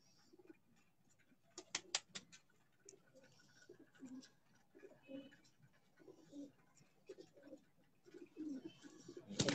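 Pigeons on a rooftop in Raiwind, Pakistan, coo softly in repeated low bursts, with a few sharp clicks and light movement nearby and no voices.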